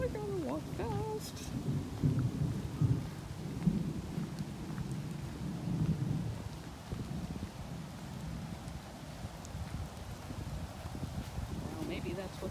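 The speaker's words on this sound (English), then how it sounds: "Sounds like it's going to storm now" Low rumbling thunder from an approaching thunderstorm rolls through steady outdoor wind and rain noise, with a few brief voices and birdlike chirps early on.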